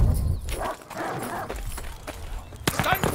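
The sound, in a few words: dogs barking in the video game Vanguard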